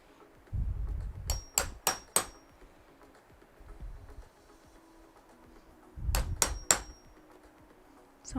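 A hammer pounds through paper into a magazine, striking in two quick clusters of three sharp, ringing blows separated by a pause, each preceded by low thuds of handling.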